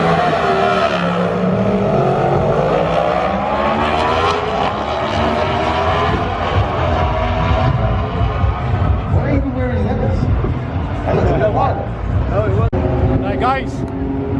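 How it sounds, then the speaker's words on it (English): Cars queueing for a drag race at a big UK car meet, engines revving and droning close by with rising and falling pitch, while people talk over the noise throughout. "this is where all the cars are lining up from for the drag race"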